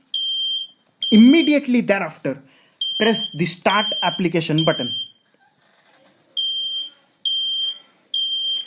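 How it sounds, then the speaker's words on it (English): A home fire alarm beeps in repeated high, piercing bursts, at first under a voice and then alone in steady intermittent pulses. "So let me start the fire alarm installed in my home."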